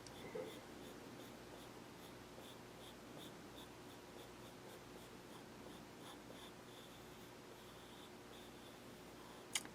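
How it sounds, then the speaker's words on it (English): Pencil drawing ellipses on paper, a faint, close scratching with a regular repeated stroke rhythm, quiet and alone, ending in a sharp tap. "Now when you're drawing the ellipses, do the best you can."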